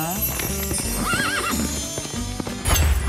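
A horse whinnies with a wavering neigh while hooves clip-clop steadily, a clear sound effect under a light musical backdrop.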